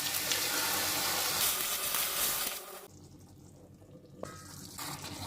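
A little water poured into a pan of frying ridge gourd with ground spices sets off a loud rushing hiss that cuts off after a few seconds, leaving a quieter low simmer with a small clink, no voices.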